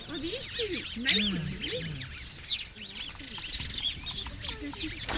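Many birds calling and chirping over one another in dry, barren Namib desert land where they feed on scraps, a dense overlapping chorus of short whistles and squawks, fairly close, with voices talking underneath.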